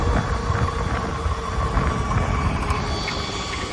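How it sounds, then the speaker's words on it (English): Fast electric scooter with a loud cooling fan, a steady broadband whooshing roar like a jet that holds at constant level throughout, with no talk. "that fan sound, it's loud, but it's kind of nice because it lets people know you're coming"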